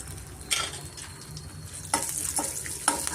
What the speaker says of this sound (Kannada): ಮೀಡಿಯಮ್ ಫ್ಲೇಮಲ್ಲೇ ನಾವು ಚೆನ್ನಾಗಿ ಫ್ರೈ ಮಾಡ್ಕೊಬೇಕಾಗುತ್ತೆ ಕಡಲೆಬೇಳೆ